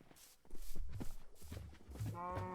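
Cows mooing in a farming video game, several low bellowing moos one after another, loud and close, the last one long and drawn out.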